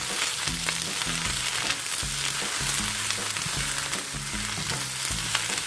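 Mixed vegetables and mushrooms stir-frying in a pan make a continuous, fairly loud sizzle, broken by repeated rhythmic stirring scrapes and clatters, with no speech.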